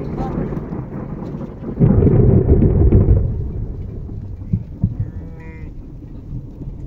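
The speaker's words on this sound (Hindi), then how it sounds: "और बारिशें भी अच्छी हो रही है" Rain falling outdoors during a thunderstorm, with a heavy burst of thunder in the middle over steady rainfall, then a bleating animal in the background.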